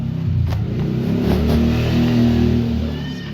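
Honda Beat 2015 scooter engine revving steadily and close up, with a coarse rattling grind from a worn left bearing running through the drone, no talk over it.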